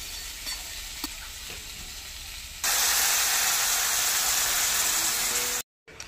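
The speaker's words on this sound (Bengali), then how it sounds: "তো এবার চাল কুমড়ো চচ্চড়ির ভিতরে কালো সর্ষের জলটা দিয়ে দেবো।" Black mustard water poured into a pan of frying mixed vegetables with ash gourd sets off a sudden loud, broad hissing sizzle. Quieter frying and stirring come first, and the sizzle stops abruptly near the end.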